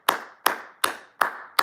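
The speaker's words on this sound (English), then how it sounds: "Round of applause for James Cook" Five slow, evenly spaced claps ring out sharply and close, each one distinct with a short tail, like a single person clapping alone with no voices.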